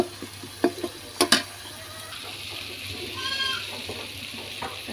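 Katla fish heads go into hot spiced oil in a pan: a few sharp clinks as they drop in, then a steady sizzle and hiss of frying that grows a little louder, close up with no talking.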